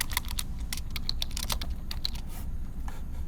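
Someone typing quickly on a computer keyboard, a steady stream of close, light key clicks with no talking.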